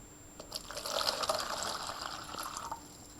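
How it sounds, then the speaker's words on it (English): Water pours from a cup into a measuring jug, a soft splashing trickle rising and fading over a few seconds, close by and fairly quiet with no voices. "and fill it with water."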